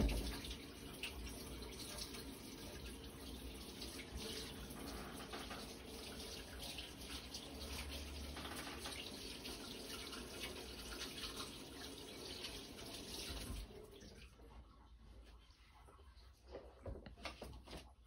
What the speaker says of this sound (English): Let me wash my hands and be right back.